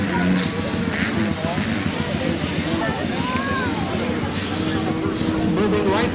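A red Honda and a green Kawasaki motocross bike race on a track, their engines a constant roar with rising and falling whines, under steady commentary.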